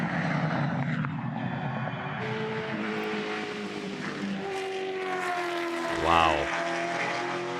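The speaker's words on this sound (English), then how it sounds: "Mustang definitely more of a screamer sound." Gen3 Supercars race cars with Mustang engines at Bathurst, loud engine howls passing close with rising and falling pitch, including a sharp high-revving scream near the end, while a man briefly exclaims over the noise.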